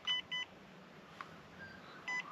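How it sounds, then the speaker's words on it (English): Remote-control car sounds a few short electronic beeps, in pairs at the start and end, faint and close, as its disc brake engages. "it beeps to let you know that this disc brake setup is engaged"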